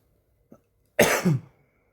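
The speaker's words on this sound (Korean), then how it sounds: "지금 목이 계속 간지러워서 기침이 나." A tiny throat sound is followed by a single sharp, close cough that trails off quickly in a quiet room.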